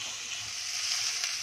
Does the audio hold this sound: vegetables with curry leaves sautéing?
yes